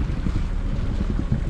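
Sailing boat running under engine near Conwy, a steady low motor rumble with wind buffeting the microphone and faint water noise around the hull, continuous throughout with no talk.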